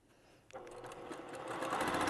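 A sewing machine stitching the seams of a handmade teddy bear, a quiet motor whir that starts after a brief pause and speeds into a steady, rising buzz.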